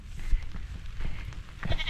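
Goats bleating on a rural farm while rain falls, several nasal bleats rising over a steady noisy wash of rain and wind, moderately close, with no talking.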